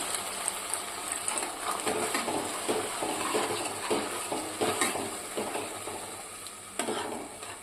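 Manchurian sauce sizzles and bubbles steadily in a pan after water is poured in, with a continuous frying hiss and repeated soft scrapes of a spoon stirring throughout, moderately close and without talking.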